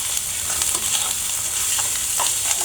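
Tomatoes hit a pan of hot oil and cooked spice paste for a fish curry, giving a loud, steady, hissing sizzle with faint crackles and no talking.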